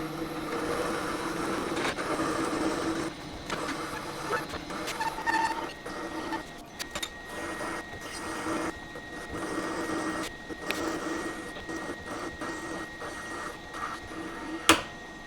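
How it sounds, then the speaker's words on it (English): A carbide parting tool cutting into metal on a lathe, a steady grinding, chattering drone running throughout with slight variations and a sharp clack near the end. "I've got a carbide parting tool in the vise, and we're just going to go in and see if we can't part the end of this off."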